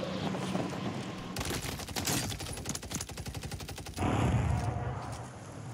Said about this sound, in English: this guy on across the map won't stop shooting me